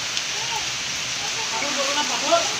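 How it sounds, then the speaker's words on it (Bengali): Rain falls in a steady, broad hiss while the sun is out, with people talking over it. "বৃষ্টি হচ্ছে, রোদ উঠেছে"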